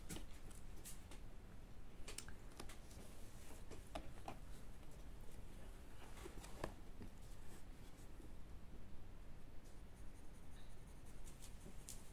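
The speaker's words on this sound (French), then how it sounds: "je prends le même crayon, sauf que du coup, j'appuie plus au fond" Albrecht Dürer pencil pressed hard on paper, a steady faint scratching that continues throughout with small irregular ticks, close and quiet, with no talk.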